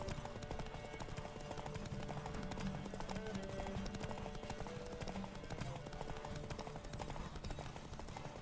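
Steady, fairly faint clip-clop of hooves from Roach, Geralt's horse in The Witcher 3, trotting in an even rhythm with ambient game sound beneath and occasional speech.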